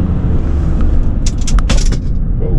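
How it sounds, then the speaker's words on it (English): Loose camera gear rattles and clatters in the back of a 2021 Chevrolet Silverado 1500 Duramax diesel 4x4 over a bump, a brief burst of knocks above a steady road and engine rumble. "That was my camera gear flying around back there"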